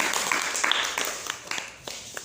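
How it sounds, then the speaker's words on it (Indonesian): A classroom audience at an Indonesian school drama lesson clapping after a group presentation, a moderate burst of applause that thins out toward the end with scattered individual claps. "Ya, tepuk tangan."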